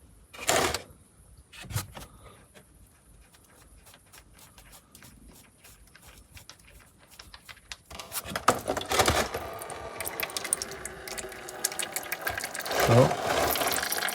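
Manual transmission fluid drains from the gearbox of a 2.2 L diesel Honda CR-V, starting as a steady, close splashing stream after a few light metallic clicks and clanks from tools.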